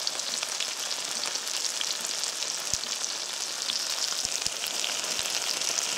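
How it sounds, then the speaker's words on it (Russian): Crucian carp fry in oil in a pan on a stove in the taiga, giving a steady dense sizzle and crackle throughout with a few sharp pops, no talk. "Вот, смотрите, как шкварчат карасики."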